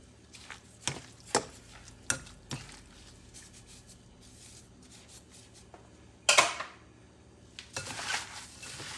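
Meatloaf ingredients, including breadcrumbs, are mixed together in a bowl, giving a run of sharp clinks and knocks against the bowl. Quieter squelching stirring fills the gaps, and there is no talking.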